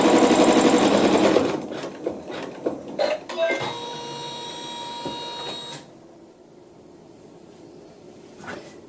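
A sewing machine stitches down quilt fabric pieces, running loud and steady for about a second and a half, then a few short bursts and clicks of handling, a fainter whirring stretch, and quiet with one last small knock.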